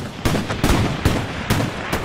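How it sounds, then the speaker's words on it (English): Sniper rifle gunshots in a first-person shooter video game, five loud, close cracks spaced roughly half a second apart, each with a short booming tail, no talking. "I'm just going to start taking out shots on the, on that ridge line"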